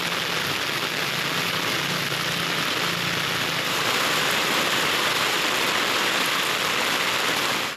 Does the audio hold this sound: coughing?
no